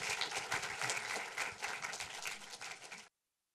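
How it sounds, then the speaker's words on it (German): Audience applause at a film premiere talk in a Frankfurt cinema, dense steady clapping from a crowd lasting about three seconds, then cutting off abruptly into silence. "Bis später. Applaus"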